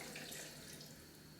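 Filtered water pouring into a blender for a liver flush drink, a soft steady splashing stream, faint and brief.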